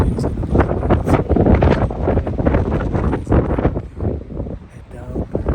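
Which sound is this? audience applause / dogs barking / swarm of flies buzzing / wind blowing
wind blowing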